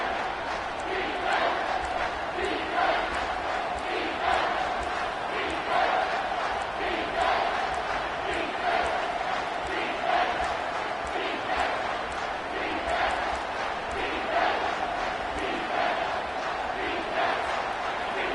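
A packed football stadium crowd roars loudly and steadily after a big third-down play near the two-minute warning, a dense sustained wall of cheering and shouting.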